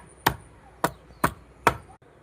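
Four sharp, evenly spaced thuds as washed jujube fruits (kul) are crushed, each hit close and crisp with a short decay, ending in a quiet pause.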